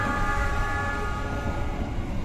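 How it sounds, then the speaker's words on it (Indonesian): A CC 206 locomotive horn blares loud and close, a sustained multi-tone blast over the heavy rumble of a moving train, heard from on board the Siliwangi train near Sukabumi–Cipatat. "Semboyan 35 dari CC 206 kedengeran jelas soalnya kita dekat banget sama lokomotif"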